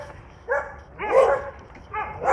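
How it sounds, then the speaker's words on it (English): A greyhound gives a few short, light barks in quick bursts, fairly close, with faint background noise between them. "we've got a greyhound that's doing little barkies"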